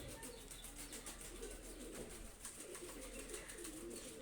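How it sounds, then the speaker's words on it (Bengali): Pakistani high-flyer golden pigeon chicks give soft, low cooing under a steady background hiss, a faint continuous murmur with no talk. "প্রথমে একজোড়া বেবি নিয়ে আসলাম স্কুলওয়ালা গোল্ডেনে বেবি খুবই ভালো মানের কবুতর দেখেন"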